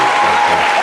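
Loud audience applause greets a contestant walking out on stage at a beauty-themed competition show, a dense, steady clatter of clapping hands that fills the whole moment with no talk over it.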